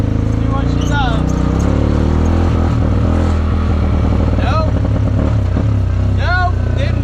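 A quad bike is taken out on a test drive, its engine puttering and revving up and down close by while a person talks over it.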